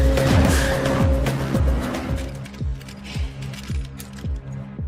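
A car speeds away in a film chase, tires squealing loudly at first, then a series of sharp repeated engine revs and chirps that fade slightly as it pulls off; no voices.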